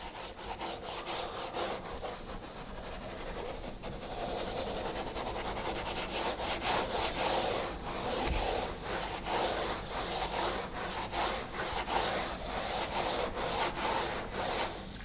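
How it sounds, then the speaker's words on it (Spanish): A BestFiber brush scrubs ULTRACOAT APC+ interior cleaner into a surface with a steady, close brushing rub that continues without a break and with no talking. "Y ahora simplemente agitamos con la brocha de Besiver."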